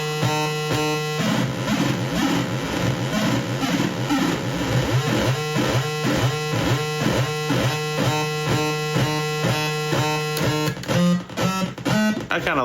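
A Moog DFAM synthesizer playing with only its second oscillator on, a loud, steady repeating sequence of buzzy tones pulsing in a tight rhythmic loop, with a few changed notes near the end.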